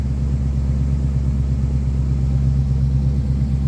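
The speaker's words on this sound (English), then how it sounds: "Choke works, as you heard, the idle come down after I tap the pedal." A 1969 Ford Mustang Mach 1 engine idling, with a steady, loud low rumble and a smooth, even throb that holds throughout, close up, with no voices.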